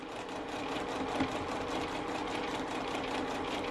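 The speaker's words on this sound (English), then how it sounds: "This is the seam I want to be sewing." A sewing machine stitches a quilt block seam, a close, steady rapid whir running continuously throughout without any talking.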